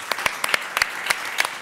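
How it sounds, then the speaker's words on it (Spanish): A studio audience on an Argentine talk show claps in a short burst of scattered, uneven hand claps, close and moderately loud, lasting under two seconds. "Aplauso para Momo"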